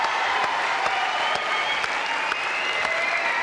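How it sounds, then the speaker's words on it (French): Steady studio-audience applause on a French television show, a dense, even wash of many hands clapping at constant loudness throughout. "Applaudissements pour nos camarades boutanais"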